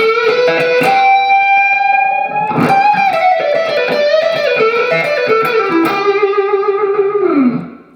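Distorted electric guitar in E, tuned down a half step, plays a lick at full speed, with sustained bent notes, fast runs and a final descending slide, loud and alone.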